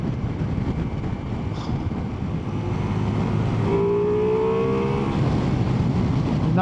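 Ducati Multistrada V4S motorcycle engine under way, a steady loud drone with wind roar that rises in pitch as the rider pulls higher up the rev range, no talking.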